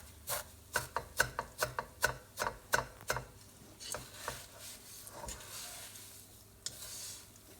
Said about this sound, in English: I've rolled the packet, twisted and turned the packet so I could squash up the vermicelli